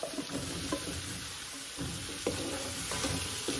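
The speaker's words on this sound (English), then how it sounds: "we're going to stir fry these" Sliced zucchini stir-fries in a pot, sizzling steadily up close and broken by a few soft scraping knocks as it is stirred, with no speech.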